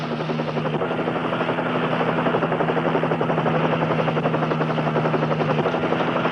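A helicopter flies steadily nearby, its rotor producing a continuous loud, fast-chopping thrum with a constant engine whine underneath, unbroken for the whole stretch.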